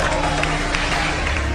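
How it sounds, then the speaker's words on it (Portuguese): A church congregation applauds during a service, producing a brief, loud, continuous wash of clapping and crowd noise with a low hum underneath. "O público aplaude."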